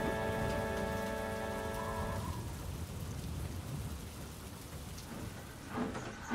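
Steady rain pours onto a surface in a storm, a dense continuous hiss throughout, with a low rumble of thunder rising near the end; a held tone sounds briefly at the start.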